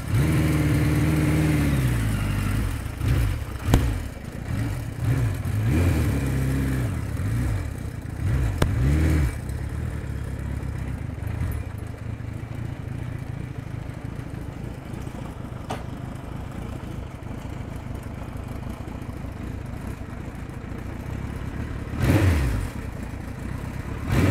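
A Kawasaki Z900 motorcycle engine running close by, with repeated revs and throttle blips early on, then settling into a steady idle that continues on its own, followed by a final short rev near the end.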